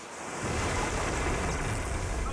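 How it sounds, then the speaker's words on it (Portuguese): After a brief quiet start, a loud, continuous roar of rushing water and crashing waves takes over, suggesting seawater flooding into a boat, dense and unbroken throughout. "E a água está inundando."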